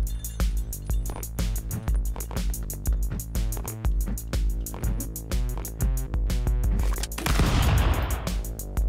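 Game gunshots in Stick Fight ring out in a quick, uneven string of sharp cracks, with a heavier noisy burst near the end and no voices.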